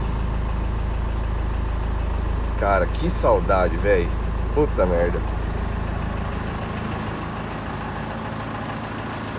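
A Chevrolet D20 pickup with a ZF five-speed idles as a low steady rumble, with someone speaking excitedly over it in the middle.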